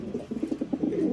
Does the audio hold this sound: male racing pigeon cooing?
yes